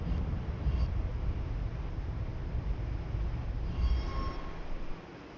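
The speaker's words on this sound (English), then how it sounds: "So we got some train traffic." A train rolls past in a video game, a steady low rumble of wheels on track at moderate distance, with faint squeals and clanks rising briefly near the end before it fades.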